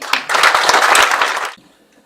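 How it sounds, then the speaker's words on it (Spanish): Conference audience gives a loud burst of applause welcoming a speaker, dense clapping for about a second and a half before stopping abruptly into near quiet. "Un fuerte aplauso para recibirlo."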